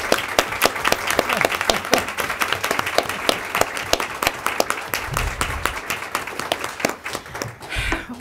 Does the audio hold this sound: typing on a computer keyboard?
no